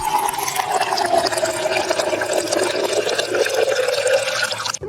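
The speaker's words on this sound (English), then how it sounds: "It might be water pouring or someone taking a wee-wee." A steady, dense stream of water pouring continuously, used as an atmospheric Foley layer in a future garage track, loud and close with a constant splashing wash that cuts off abruptly at the end.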